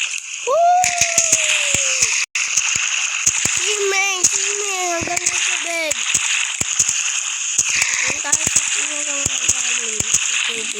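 Water splashes and sloshes as people swim, with children's excited voices, shouts and whistle-like calls ringing out over a steady wash of water noise.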